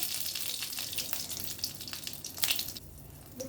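Dried red chillies sizzle in hot oil with panch phoron, a steady crackling fry with sharp spits and pops, close and alone without talk.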